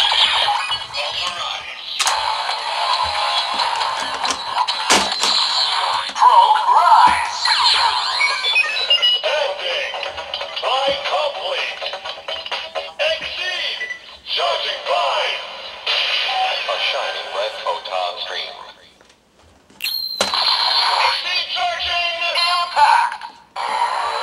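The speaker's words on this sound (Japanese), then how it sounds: "次はね、01ドライバーでね音声聞いてみましょう" A DX Kamen Rider Zero-One Driver toy belt plays announcement audio for a Faiz Progrise Key, loud electronic voice and music effects running continuously with brief gaps, heard up close.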